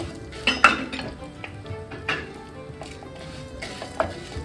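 Urad dal, chana dal and mustard seeds frying in a little oil for an amla pickle tempering, with a steady low sizzle broken by a few sharp metallic clinks and scrapes of a spoon against the pan.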